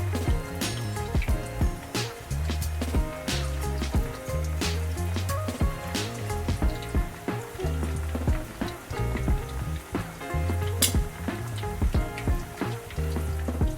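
Plantains (plátanos) frying in a big pan, a steady dense sizzle and crackle with scattered sharp pops from hot oil, close and continuous throughout, no voices.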